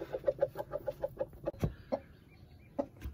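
A hen clucks in a quick run of soft, rhythmic notes, then a few scattered clucks follow, close by and fairly quiet.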